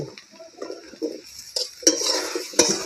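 Cut potatoes with turmeric powder are stirred in a pan, with a soft sizzle and several distinct metallic clinks and scrapes of the spoon on the pan, close by.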